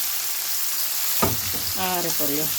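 Cabbage stir-frying in a hot pan gives a steady, close sizzling hiss throughout, with a short burst of voice near the end.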